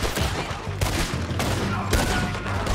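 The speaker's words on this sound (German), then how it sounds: "Und dann schießen wir halt eben so weiter." Rapid bursts of gunfire from a Red Dead Redemption 2 shootout crackle repeatedly in close succession, with sharp shots landing in clusters over a continuous loud game backdrop.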